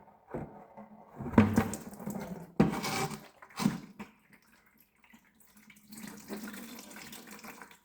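Diesel fuel from a Duramax LBZ sump line pouring into a bucket in a few splashy, liquid bursts, close and moderately loud, then a softer steady trickle.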